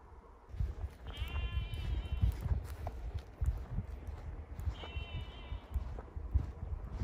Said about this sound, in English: these sheep are indigenous to the Lake District. They're a Lakeland sheep